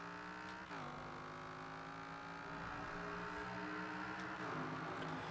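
AMC Gremlin with a V10 engine swap in Forza Horizon 4 accelerating hard, a steady loud engine drone climbing in pitch with gear-change dips, alone without talk.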